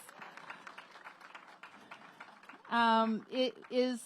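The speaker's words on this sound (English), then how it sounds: "Let's give this young man a big round of applause." Light, scattered applause from a crowd at an outdoor community center groundbreaking, soft and somewhat distant, giving way to someone speaking loudly into a microphone.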